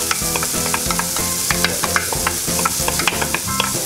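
Chopped onion frying in hot oil in a small pot, a loud, steady sizzle with busy crackling and repeated stirring scrapes throughout, close up and with no talking.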